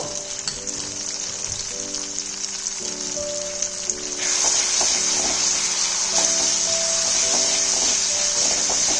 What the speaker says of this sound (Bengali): আদাটা ফ্রাই হয়ে গেছে। এবার আমি 1 টিস্পুনের মতন জিরে গুঁড়ো এর মধ্যে দিয়ে দেব।